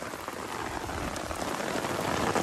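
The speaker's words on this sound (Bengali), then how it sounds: "এখন হঠাৎ করে আবার বৃষ্টি হয়ে পড়ছে" Steady rain pours down over an open wetland in a dense, even hiss that grows slightly louder toward the end.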